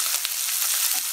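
Chopped onion hits hot oil for semiya upma, giving a bright, loud, continuous sizzle and crackle close up, with no voices.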